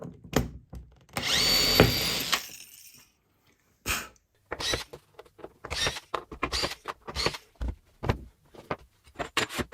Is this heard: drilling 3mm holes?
yes